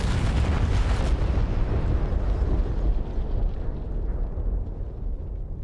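Artillery rounds exploding in a military video game, heard as a loud, continuous rumbling barrage of blasts that stays dense throughout, its bright crackle fading after the first second into a lower, sustained roar.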